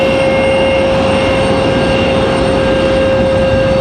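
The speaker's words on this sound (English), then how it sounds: "I believe the 747 is a charter flight" A Boeing 747 on a charter flight roars steadily at an airport, a loud continuous jet drone with a sustained whine, heard alone without talk.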